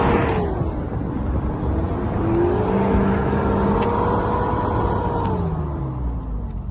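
A car engine held at low throttle while driving, a steady close drone whose pitch rises gently then eases and drops, loud and continuous with no voices.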